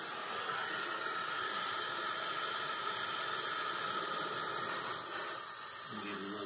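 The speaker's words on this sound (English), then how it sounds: "Give it a little bit of propane there so it'll heat it up." A propane torch heating steel near carriage bolts on hot rod headlight stands for a 1934 Ford 5-window coupe, a steady close, loud hiss of the flame that holds throughout.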